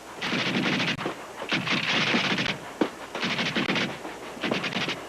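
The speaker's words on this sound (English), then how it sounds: "a machine gun suddenly opened fire on the tent colony" Machine gun fire heard as repeated rapid bursts of loud, sharp shots separated by brief pauses, with no talk over it.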